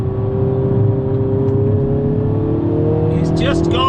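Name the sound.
Mini John Cooper Works Clubman engine accelerating uphill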